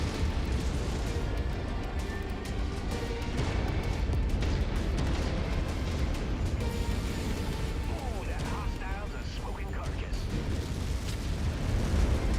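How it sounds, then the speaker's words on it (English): Artillery explosions in MechWarrior 5: Mercenaries, a continuous heavy rumble of blasts and bursts filling the scene, loud and dense, with a voice talking over it at times. "Oh, artillery. There is artillery."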